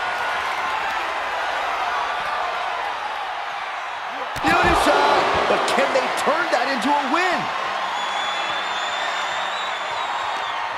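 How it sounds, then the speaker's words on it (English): A wrestling arena crowd in the WWE 2K23 video game at WrestleMania 29 keeps up a steady roar that swells into a louder surge with whoops and cheers, under a commentator's voice. "The roar of this crowd has been building, and they are at a fever pitch right now."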